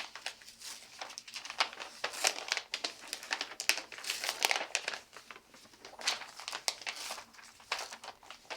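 Fused fabric appliqué peeled slowly off a pressing sheet, producing a close, crackly crinkling and tearing rustle in irregular bursts over several seconds; no one speaks.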